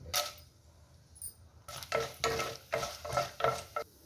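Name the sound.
tempering spices and dried red chillies frying in pan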